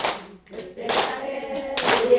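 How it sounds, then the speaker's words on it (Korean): An audience claps along to a Korean song, sharp bursts of hand claps rising over a sung melody, fairly close and loud, with quieter gaps between the louder clusters. "박수 한번 주세요"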